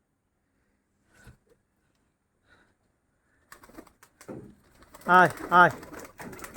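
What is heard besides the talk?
pigeons cooing in a pigeon house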